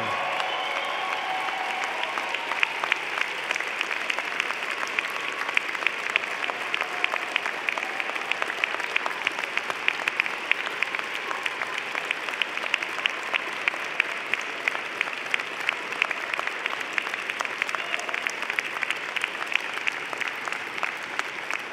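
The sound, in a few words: audience applauding the graduating class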